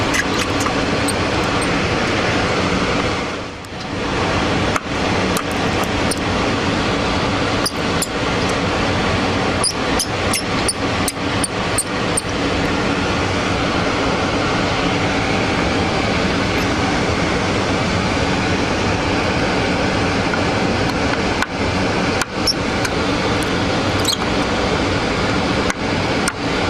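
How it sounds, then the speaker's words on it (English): Air rushes steadily through a data recovery clean room, a constant broadband whoosh filling the space, broken by scattered faint clicks and one brief dip in the noise, with no voices. "the noise you hear in the background is actually the air rushing through our clean room environment here"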